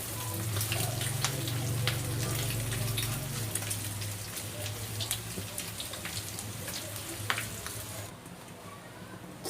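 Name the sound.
soy sauce added to sizzling pan of pork intestine adobo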